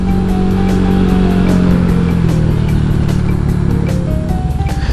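A carbureted automatic scooter is given a little throttle from a standstill, its close mid-pitched engine note rising and pulling away smoothly without extra revving, loud and continuous with no speech.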